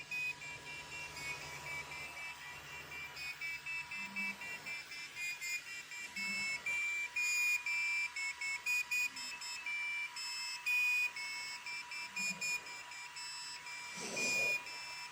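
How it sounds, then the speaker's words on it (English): A 3D printer's beeper plays a short end-of-print tune, a sequence of thin high-pitched electronic notes, fairly faint over a low background hum. "I've now got a little tune which plays at the end of the print"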